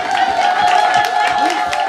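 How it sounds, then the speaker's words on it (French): Applause from an audience at an outdoor nursery-school festival, steady clapping across the whole stretch with a busy crowd murmur and a constant tonal hum running underneath. "Est-ce qu'on peut applaudir?"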